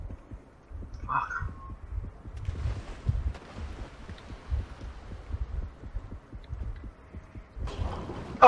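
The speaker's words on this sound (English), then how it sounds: "I could hear the heartbeat going" A slow, steady heartbeat thumps throughout in a video game, a low throbbing pulse that repeats at an even rhythm under a faint hum, with a brief higher tone early on.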